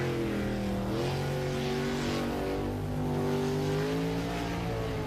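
A racing powerboat's V8 engine roars continuously at high revs, its pitch wavering up and down, loud and steady throughout.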